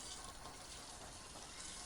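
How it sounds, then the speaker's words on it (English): Tap water running steadily into a kitchen sink during dishwashing, a faint continuous gush with no other sounds. "Water ran longer than it needed to"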